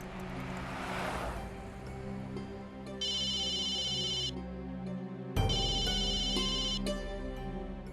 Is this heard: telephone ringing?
yes